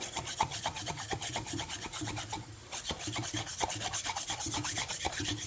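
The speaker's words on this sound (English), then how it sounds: "Then I'm going to take my wire brush and do the same thing I did before." A wire brush scrubs the bore of an old master cylinder from a 1965 Chevelle that has sat for years, wet with brake parts cleaner, in quick rhythmic rasping strokes close up with a brief pause midway.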